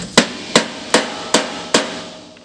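Five evenly spaced rubber hammer blows during rear bed and inner fender fitting on a Smyth Jetta MK4 ute build, each a sharp, loud thud with a short decay, ringing clearly with no talk.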